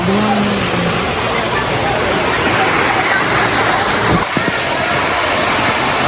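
River water rushes in a constant loud wash at a camping spot in Bauan, Batangas, filling the whole scene up close, while voices talk faintly beneath it.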